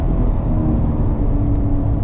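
Cadillac CT5-V Blackwing with its V8 engine pulling steadily while driving, a dense low rumble heard close and constant under road noise.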